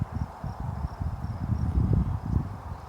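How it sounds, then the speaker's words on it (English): Dense, low buzzing of many bees from a large rehived swarm humming together, steady and close, with no voices. "they are just super chill bees"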